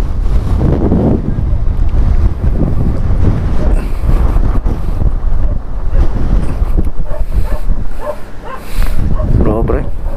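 Strong wind blasts straight into the microphone on a motorbike ride near San Nicolas, Pangasinan, a loud continuous buffeting roar with gusts, while a person talks under it.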